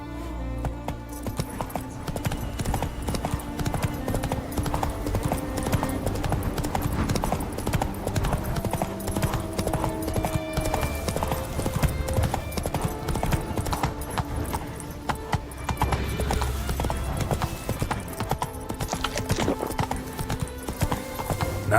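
Roach, Geralt's horse in The Witcher 3: Wild Hunt, gallops in a fast, continuous drumming of hooves, loud and near, over a full layer of game ambience and music for the whole stretch.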